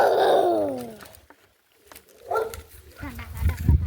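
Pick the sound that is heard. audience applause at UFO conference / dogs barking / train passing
dogs barking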